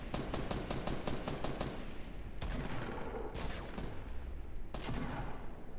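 Fortnite gunfire: a rapid burst of close shots rattles off at the start, followed by several louder single cracks spaced through the rest over steady background game noise.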